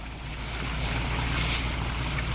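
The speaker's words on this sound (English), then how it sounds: "we got water running down the road" Floodwater runs down a road near an orchard and small field, a dense, continuous wash with a steady low rumble, close and unbroken with no voices.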